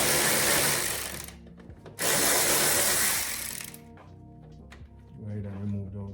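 Tool work on a BMW E46 325xi, loosening T30 Torx bolts on a guard: two loud bursts of harsh mechanical rattling, like a power driver or ratchet, then quieter clicks and tapping at close range.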